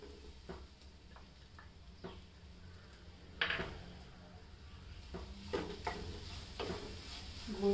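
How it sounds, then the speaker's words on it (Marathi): Spoon stirring jaggery into coconut filling in a pan, soft scraping and tapping strokes at irregular intervals, quiet and close with a low background hum. "गूळ पण मिक्स करून घेऊया."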